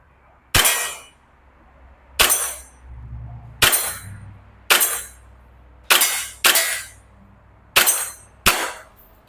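An E&C 1202 Glock 34 gas BB pistol fires at targets about 10 metres away, roughly eight sharp, loud cracks spaced about a second apart, each followed by a brief metallic ring.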